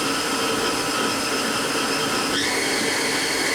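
A 1996 HAAS HS-1 CNC horizontal machining center spindle whirs steadily in high gear, a dense, loud mechanical whine that shifts upward in pitch partway through as it spins faster.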